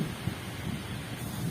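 Heavy rain and strong wind sweep over a waterlogged area, giving a steady, fairly quiet wash of broadband noise with soft gusty rumbles and no voices.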